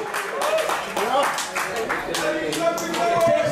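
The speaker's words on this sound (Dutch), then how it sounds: "ook een applaus voor de jongeman in de blauwe" An audience claps at a kickboxing fight, a short burst of applause mixed with crowd noise while a ring announcer speaks over it.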